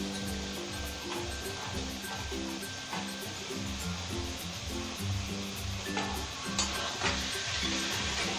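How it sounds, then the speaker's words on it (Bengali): A spoon stirs a sticky coconut and khoa kheer filling in a pan for dudh puli pitha, giving steady repeated scraping and soft sizzling strokes in a regular rhythm, moderately faint, with no voices. "খোয়া ক্ষীরটা দিয়ে ভালো করে নাড়াচাড়া দিয়ে মিশিয়ে নেবো।"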